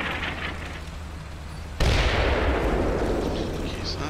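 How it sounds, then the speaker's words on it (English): In the Combat Mission World War II game, a loud artillery shell impact booms abruptly mid-clip and rumbles on in a long roar after a quieter stretch of background battle noise. "so that German artillery probably against those tanks, right?"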